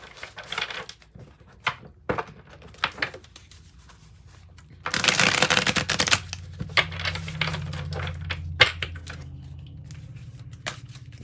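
Tarot cards are shuffled in a reading, with scattered light taps and riffles, then a dense burst of papery flutter in the middle before softer handling continues, close and without talk.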